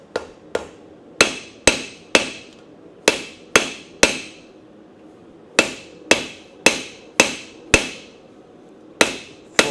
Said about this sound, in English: Forge in this next bevel area.